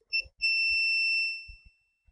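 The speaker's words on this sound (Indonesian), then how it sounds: "bunyi buzzer tilit-tilit" A small Arduino buzzer emits a brief high-pitched beep followed by a longer sustained shrill tone, loud and close, then silence with faint low clicks.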